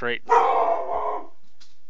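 A dog gives one loud, short bark close by. A voice sounds just before and after it.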